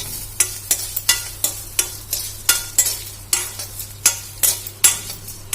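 Rhythmic scraping strokes of a spatula stirring tamarind pieces in oil in a pan, roughly two per second, over a light frying sizzle, close and fairly loud.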